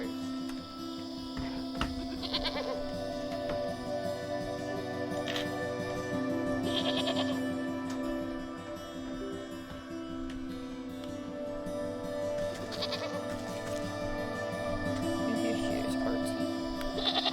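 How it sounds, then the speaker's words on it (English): Goats bleat in protest while being sheared in the video game Wytchwood, several wavering cries rising over a steady game music backdrop, fairly close and clear. "With much protesting and a nicked ear, you shear away clumps of dirty hair from the goat's eyes."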